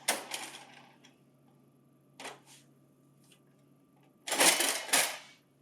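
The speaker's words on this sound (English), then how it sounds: "Remove tray 2." Tray 2 pulled out of a CS943/CX94x-series office laser printer: a cluster of plastic clicks and sliding rattles, a lone knock midway, then two louder sliding clacks near the end, close and otherwise quiet.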